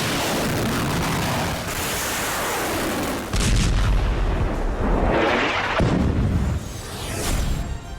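Missile explosions and artillery fire in an Iran–Israel war strike, heavy booming blasts and rumbling detonations, loud and close, with a sustained roar and several sharp impacts.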